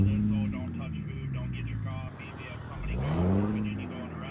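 A truck engine with a CAT engine mod and straight-pipe exhaust rumbles and revs in American Truck Simulator, a deep steady drone that swells near the end, with someone talking over it.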